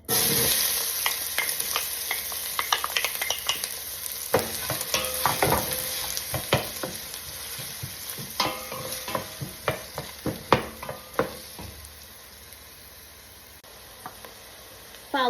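Onion frying in olive oil for corned beef guisantes, a close crackling sizzle broken by repeated scraping stirs that become sharper and more spaced out toward the end.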